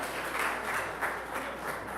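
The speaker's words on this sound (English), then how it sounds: "Please clap for him." A church congregation at an Anglican harvest thanksgiving service claps steadily, a dense, moderately loud patter of many hands that continues throughout with no voices.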